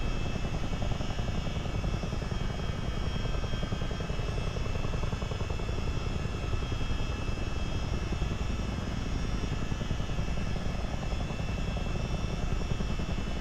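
A Chinook tandem-rotor helicopter in Microsoft Flight Simulator 2024 gives a loud, constant rotor and turbine roar with fast steady blade chop, unbroken throughout and close to the listener.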